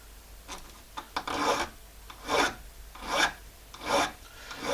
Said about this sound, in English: when you're working with a file like this